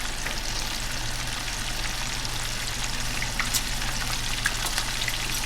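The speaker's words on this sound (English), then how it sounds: "I want y'all to notice how high and how much sizzle is going on right now." Bluegill fillets frying in hot grease with a constant dense sizzle and scattered crackles and pops, steady and fairly quiet with no voices.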